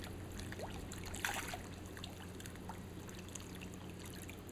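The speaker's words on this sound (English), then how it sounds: "Ronnie's gonna put the bread in the water, and now it's like a feeding frenzy." Fish, mostly white mullet, thrash at bread thrown into lagoon water at Tikehau Atoll in French Polynesia: faint splashing and trickling with one brief louder splash burst, soft and close.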